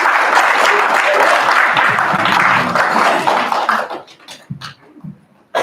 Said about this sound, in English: Let's give another round of applause for Iwan.